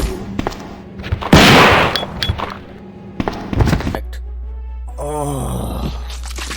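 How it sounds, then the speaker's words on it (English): A fully upgraded shotgun in Resident Evil 2 fires loud, sharp blasts, several spaced shots with echoing decay, mixed with zombie groans and other game sounds. "The fully upgraded RE2 shotgun."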